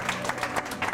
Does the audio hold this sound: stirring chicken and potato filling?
no